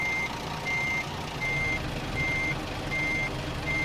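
Truck backing up in American Truck Simulator, its reversing alarm sounding six steady evenly spaced beeps over a continuous engine rumble, close and clear with no talking.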